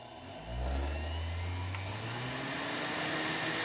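Electric juicer motor starting up in a kitchen, spinning up within half a second into a steady, loud, close whirring hum that holds for several seconds with no voices.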